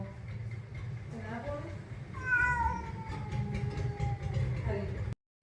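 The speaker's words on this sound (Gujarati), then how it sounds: "બોલી દો મ્યાઉ" A cat meows a few times, drawn-out and fairly close, over a low background hum and some speech-like murmuring.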